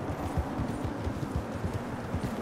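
Horse hooves clip-clopping in Red Dead Online, a steady rapid trot of hoofbeats at moderate volume with no talk over them.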